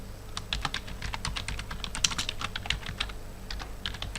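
Rapid keystrokes on a computer keyboard, a burst of crisp, close clicks in an uneven rhythm with a few brief gaps, heard alone with no talking.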